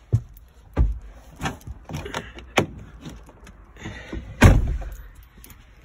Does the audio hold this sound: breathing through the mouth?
no